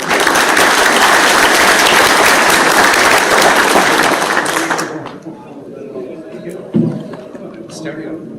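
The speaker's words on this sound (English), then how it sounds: "let's give everyone a big round of applause" A roomful of people give a loud, dense round of applause after a presentation. It lasts several seconds, then stops abruptly, leaving quiet room tone, a thump and scattered voices.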